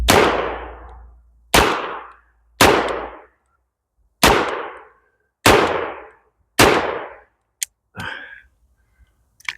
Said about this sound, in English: I like shooting these cowboy loads. They're like shooting pop guns.